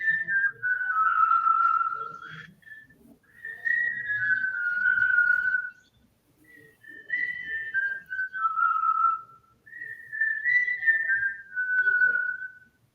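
A woman whistles a melodic tune in several sustained, wavering phrases with short pauses between them, clear and close with little else around.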